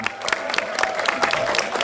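Audience applause for the cast and filmmakers at a press conference for the film Lastri: Arwah Kembang Desa, a brief, dense patter of many hands clapping in a reverberant room.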